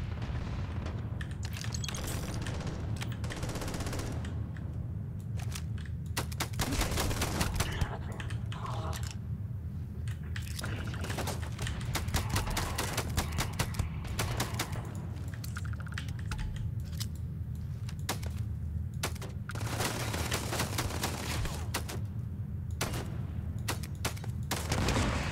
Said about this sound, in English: There's shooting happening here.